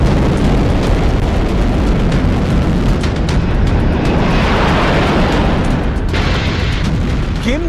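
A North Korean tactical ballistic missile launch roars as a loud, sustained, broadband rumble and hiss that holds steady for several seconds with a slight swell, no voices.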